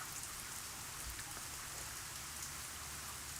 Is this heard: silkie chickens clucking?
no